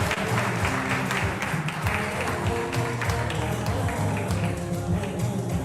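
An awards ceremony audience keeps up sustained applause, a dense continuous clapping crowd with a low musical or hum layer running underneath throughout.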